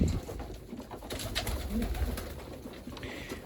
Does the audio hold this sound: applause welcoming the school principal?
no